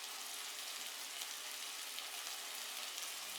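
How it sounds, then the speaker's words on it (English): Steady, dense crackling sizzle of steak frying, constant and close with no pauses. "Vinyl crackle and steak sizzling away are just a couple of my staples."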